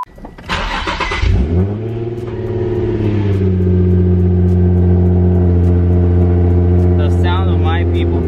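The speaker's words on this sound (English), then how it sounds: "let's get this cold start in." A car engine cold-starts with a brief cranking burst, then settles into a loud, steady high idle that holds evenly to the end, with a faint voice briefly audible near the close.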